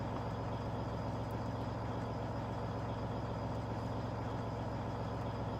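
A truck engine idles in the video game Farming Simulator 17, a low, steady drone that holds unchanged throughout, faint and with no voices.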